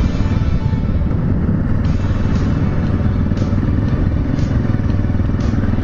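An overheating motorcycle engine rumbles steadily up close, loud and continuous, with faint clatter over the low drone.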